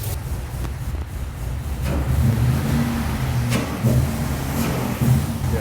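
An LS-swapped IS200 idles with a choppy, lumpy rhythm, its low pulsing beat steady and close, with small rev blips lifting the level now and then.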